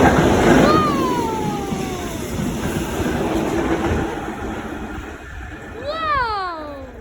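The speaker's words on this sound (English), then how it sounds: "It was a cargo train." A cargo train rumbles past on the Lancing to Brighton line with a steady broadband roar and rolling clatter, while descending whistle-like tones sweep down near the start and end and voices talk over the passing noise.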